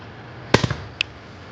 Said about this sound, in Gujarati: અહીં ફટાકડો ફૂટ્યો